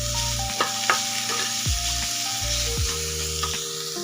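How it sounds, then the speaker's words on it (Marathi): Chilli, garlic and ginger paste sautéing with onions in a pan gives a steady, close sizzle, with a few light scrapes and taps of a stirring spoon over the frying and no voices. "ही पण आपल्याला कच्चेपणा जाईपर्यंत कांद्यासोबत परतून घ्यायची आहे"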